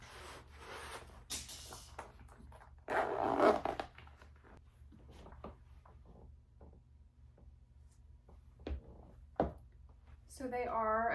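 A zipper is pulled on pointed-toe fold-over boots with a hidden inner zip while they are put on, giving short close rasping strokes amid rustling, with someone talking at times.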